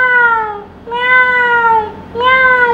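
Children in a class imitate a cat, voicing three drawn-out meows in a row, loud and close, each a rising and falling tonal cry with short pauses between.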